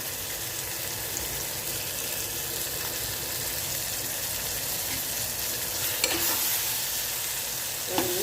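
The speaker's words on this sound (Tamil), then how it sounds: "இப்போ இது எல்லாமே சேர்ந்து நல்லா வதங்கி வரட்டும்." Tomatoes and spices sauté in a pan for a bitter gourd curry, a steady close sizzle with stirring and a couple of small scrapes, no voices.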